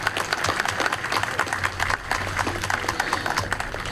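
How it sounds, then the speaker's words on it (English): An outdoor crowd at a Memorial Day ceremony applauds children after the national anthem, with steady, dense clapping and a low hum of crowd noise throughout. "Let's give them a round of applause."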